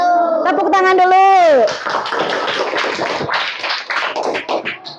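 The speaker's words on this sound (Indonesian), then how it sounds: "Tepuk tangan dulu" A class of schoolchildren claps hands in a classroom after a drawn-out sung or chanted phrase, giving a few seconds of quick, uneven clapping close by that thins into scattered claps and murmuring.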